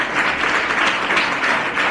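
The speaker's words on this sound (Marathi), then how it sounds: "त्यानंतर टाळ्या वाजवा की जरा." Audience clapping steadily at a school prize-giving ceremony, a dense continuous patter of many hands with no pauses, fairly loud throughout.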